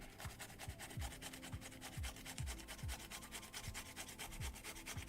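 Courgettes rubbed against a kitchen grater, producing a steady series of rhythmic rasping strokes, close and moderately loud, with no talking.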